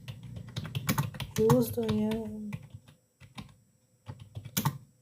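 HTML code is typed on a computer keyboard, producing quick, close, irregular key clicks in short bursts, interrupted by someone talking.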